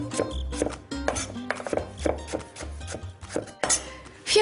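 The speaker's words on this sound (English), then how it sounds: "Skin and chop the apples into bite-sized pieces." Skinned apples being chopped into bite-sized pieces with a knife on a cutting board, a steady series of close, firm knocks with brief pauses between strokes.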